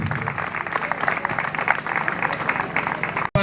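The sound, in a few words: audience applause for Hassan's father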